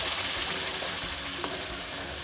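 Ground tomatoes with green chillies cooking in a pan for pav bhaji, giving a steady, close sizzle and bubbling with a faint stir scrape partway through.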